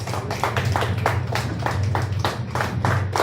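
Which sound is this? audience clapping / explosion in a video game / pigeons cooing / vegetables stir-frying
audience clapping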